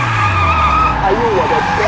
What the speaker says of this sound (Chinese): 刹车！ 踩刹车！